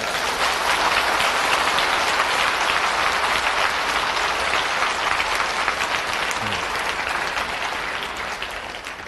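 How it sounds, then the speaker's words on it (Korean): High school students seated on the floor at a church worship service break into loud, dense applause that holds steady for several seconds, then gradually tapers off. "박수 좀 쳐줘"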